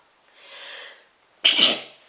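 A single sneeze, a short soft inhale followed by one loud sharp burst, heard close up and alone.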